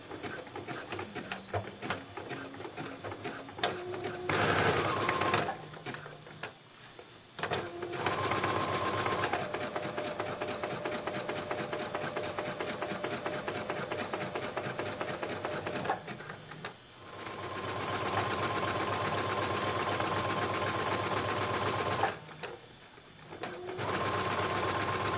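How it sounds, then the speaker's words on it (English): A sewing machine runs a zigzag stitch along a swim dress, humming loudly and steadily in long runs broken by brief pauses and restarts. "I'm going to take it to the sewing machine, and I'm going to zigzag stitch at 1/4 inch"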